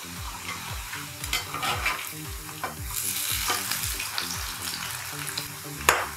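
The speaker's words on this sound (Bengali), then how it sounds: "এখন এইভাবে অল্প অল্প করে নিয়ে পকোড়াগুলো ভেজে নেব" Cabbage pakoras deep-frying in hot oil, a steady close sizzle with repeated soft stirring strokes and a sharp clink near the end, no voices.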